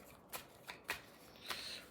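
A deck of tarot cards is shuffled close up in a few quick, soft riffling bursts spaced unevenly over a couple of seconds, quiet and without talk.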